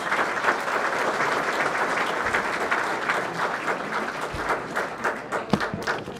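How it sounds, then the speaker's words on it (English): A banquet-hall audience at a bowling hall of fame and honors dinner claps steadily in sustained, even applause that runs the full stretch, with a few sharper claps near the end. "These are the people that brought you your 2026 State Seniors Tournament. Give them a round of applause."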